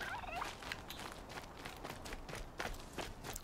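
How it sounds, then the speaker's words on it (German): Turkey gobbling in the open world of Horizon Zero Dawn, a rough, rapid warbling call at moderate distance, repeated in bursts over a continuous wash of ambient game noise with faint footstep-like thuds. "Truthahn."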